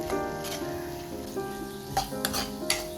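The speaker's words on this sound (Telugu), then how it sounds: "నూనెలో బాగా మగ్గుతాయి కొంతసేపు గింజలు." Bean seeds and tomatoes frying in oil in a pan, a steady soft sizzle with occasional stirring scrapes and clicks, close and continuous with no talking.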